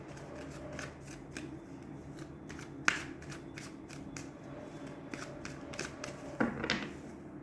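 A tarot card is drawn from the deck with soft, close papery flicks and snaps, several light card slides spaced irregularly over a quiet background.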